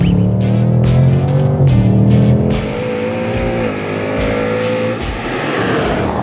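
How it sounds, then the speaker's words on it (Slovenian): A 2024 Ford Mustang Dark Horse with an American V8 roars loudly up close, its deep engine note rising and shifting through revs in a continuous, powerful drone. "Vožnja pravega ameriškega V8 mišičnjaka je vselej nekaj posebnega."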